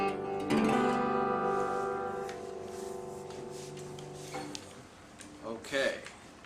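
Open strings of an acoustic guitar tuned for a Delta blues lesson ring out strummed together as one chord, decaying slowly, followed by softer handling noises and a brief voice near the end.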